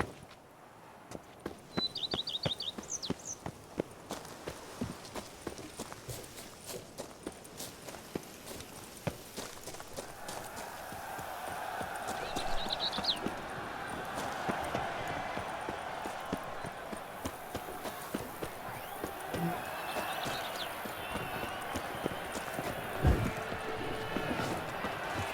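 Roach, a horse in The Witcher 3, gallops with steady clip-clopping hooves that run densely through the first ten seconds, then continue under a broader wash of ambient game noise, with no talk.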